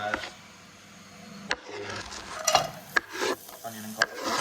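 Onion and garlic fry in a pan alongside sausage and bacon for a full fry-up, a crackling sizzle broken by several wooden spoon scrapes and knocks against the pan, close and fairly quiet.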